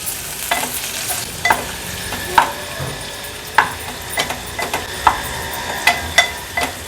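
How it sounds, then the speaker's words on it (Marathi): Onion frying gently over a low flame, a soft continuous sizzle punctuated by regular close scraping stirs of a spatula against the pan. "कांदा छान लो फ्लेमवर आपल्याला शिजवून घ्यायचंय आहे"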